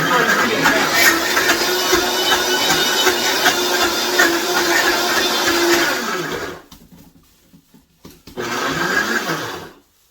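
A Vitamix blender whirs loudly as it grinds dry habanero peppers for a fermented mash, cutting out briefly before roaring again.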